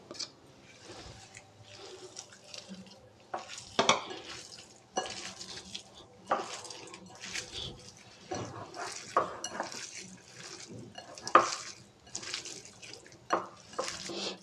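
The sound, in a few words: mixing and lightly crushing onion, chilli and coconut chutney ingredients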